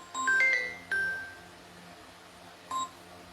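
Telephone keypad tones sound while a number is dialled to call someone back: a quick run of short electronic beeps, a pause, another beep and then a final tone after a longer gap, clear and close with no voices.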